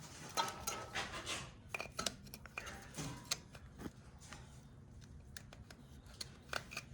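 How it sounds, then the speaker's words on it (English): A small screwdriver scraping and poking into a hole near the knock sensor of a 1986 Chevy square-body truck, close-up metallic taps and scratchy scrapes arriving in irregular bursts with no talking. "Let's take a little screwdriver and poke into that hole."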